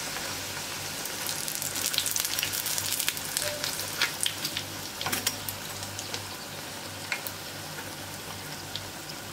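Minced-meat börek frying in hot oil gives a steady, close sizzle with scattered crackles and pops, with no talking.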